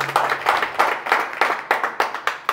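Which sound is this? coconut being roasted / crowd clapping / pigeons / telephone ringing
crowd clapping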